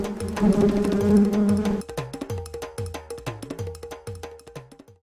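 A swarm of bees buzzing in a cartoon scene, a dense drone that stops abruptly, followed by a rhythmic series of short thumping hits.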